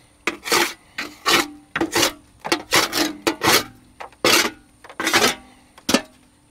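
A hand saw cuts out screws on a 1950 Cadillac hearse in a series of rough, rasping strokes, each about half a second long, close by and loud with short pauses between them.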